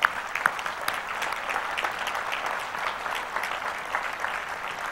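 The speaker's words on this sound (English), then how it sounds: "I'd like to give a warm round of applause to all of our presenters who did a great job." Audience at the Macworld/iWorld 2013 main stage applauding the presenters, a sustained round of clapping from a crowd throughout.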